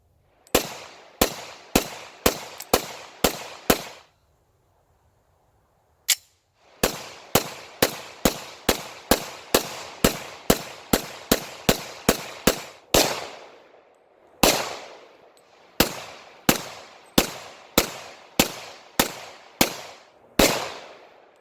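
Pistol gunfire at an outdoor shooting range during 1,000+ round testing of a Wilson Combat SHOK-BUFF recoil buffer: loud, sharp shots in rapid strings with brief pauses between magazines, no talking.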